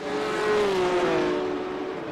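A race car engine in the iRacing simulator drones at a steady high rev, loud and close, with a smooth, slightly wavering pitch throughout.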